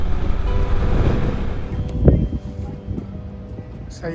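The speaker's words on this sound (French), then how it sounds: "Un beau petit vent de travers." Crosswind blowing by the ocean at Cape Spear, Newfoundland, roaring and buffeting loudly into the microphone, then easing slightly toward the end.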